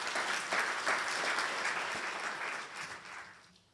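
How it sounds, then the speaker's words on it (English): A conference audience bursts into a big round of applause for a panel on psychedelics and business, steady dense clapping that fills the room throughout before tapering off near the end. "So if you could give Tiffany a big round of applause."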